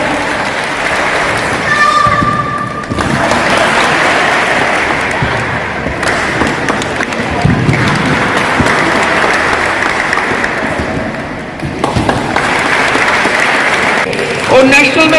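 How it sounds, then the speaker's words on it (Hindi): Loud, close audience applause at an event honouring a yoga competitor, dense clapping that carries on for the whole stretch, with voices mixed in at times. "शाबाश शाबाश, तालियां तालियां तालियां।"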